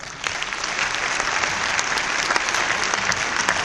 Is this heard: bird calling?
no